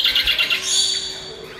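A lovebird's shrill squawks and chirps, a few quick high calls up close followed by a longer sustained screech that fades out.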